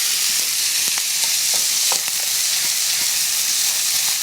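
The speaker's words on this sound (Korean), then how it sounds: "방금 양념에 버무린 미역 줄기를 넣고" Seaweed stems coated in seasoning stir-fry in a hot pan, giving a steady, dense sizzling hiss with faint scattered crackles and stirring clicks throughout, close and continuous with no talking.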